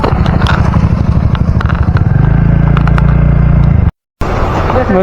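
A motorcycle is ridden on a road in Mandya, its engine droning loudly and close with rising and falling pitch, clattery road noise, and a brief dropout near the end.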